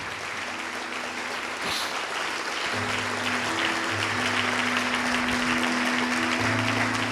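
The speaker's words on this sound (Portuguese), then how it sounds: "Vem aqui para frente e vamos aplaudir ao nome do Senhor, igreja" A church congregation applauds in praise. The clapping is dense and continuous, with sustained musical tones under it.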